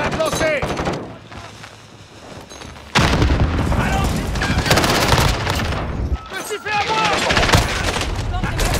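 Gunfire and heavy explosions from a grenade and thermite in the shooter game Modern Warfare 2019 keep up loud and dense through a brief lull, with sustained bursts and booms layered under a voice.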